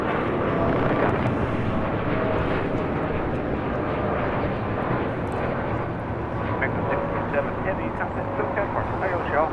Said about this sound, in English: It's the short version of the Dreamliner headed out to Mexico City. It's a 787-8 Dreamliner, flight 647 with Aeromexico.